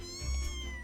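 Kittens meow in a cozy game world, a single drawn-out, bright, harmonic mewing call heard close and clear with no talking.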